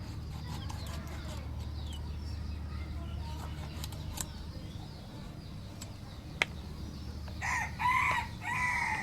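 A rooster crows near the end, a loud harmonic call over a steady low rumble and scattered background noise.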